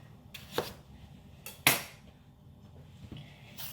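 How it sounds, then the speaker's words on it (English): A kitchen knife cutting a radish on a board while making clear chicken stock: a few separate sharp chops and knocks, one louder clack near the middle, close by with no talking. "I'm going to cut the radish first"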